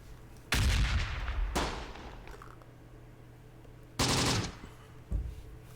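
Machine gun fire in the video game Close Combat, set in a North African campaign: two sharp bursts, each opening with a loud crack and then decaying, with a short single shot at the end, over a quiet background.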